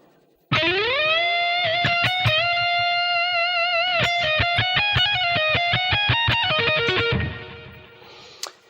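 Distorted electric guitar plays the opening of a main solo, starting with a slide up and a long sustained bent note, then a run of rapid picked notes. It is loud and close, with a sustain that fades at the end.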